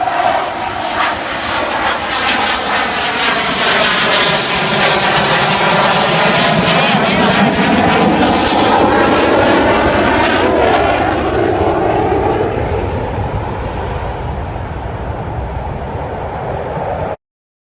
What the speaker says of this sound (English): We're hunting a frisbee golf course with loud planes in the air.